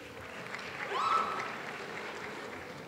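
An audience at a college athletics awards ceremony claps: soft, diffuse applause swelling briefly around the first second and then settling into a faint, distant patter in a large room.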